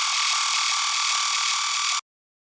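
An EDM drop scream from a sample pack: a harsh, buzzing, distorted synth tone with a grinding, ratchet-like texture holds steady and loud for two seconds, then cuts off abruptly into silence.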